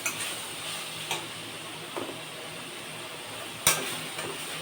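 Onion and spring onion sautéing in oil for homemade chicken fried rice, a steady soft sizzle with a few sharp ticks and scrapes of stirring, fairly quiet and close, with no talking.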